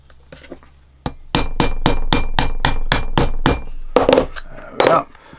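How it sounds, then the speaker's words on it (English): A hammer strikes a rivet to fix a strap onto a leather adze cover, about ten sharp, evenly spaced blows close up, then a couple of slower, heavier knocks at the end. "and I'll rivet it on"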